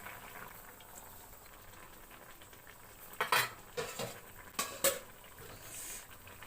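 Small fish drop into a gently bubbling radish and eggplant curry in a pot, a few soft splashes and utensil clinks rising over a low simmer, close and fairly quiet with no speech.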